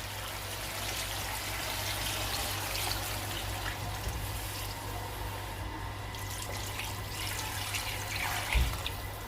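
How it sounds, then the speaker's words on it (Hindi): Water pours steadily from a jug of about 1.5 litres into a cooking pot of beef paya on the stove, a continuous rushing wash over a low hum, ending with a brief knock of the container. "अब मैं इसमें पानी शामिल करूंगी।"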